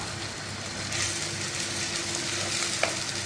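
Chopped shallots sauté in hot oil for a fish curry, a soft steady sizzle close by with faint stirring scrapes and a small clink near the end, no talking.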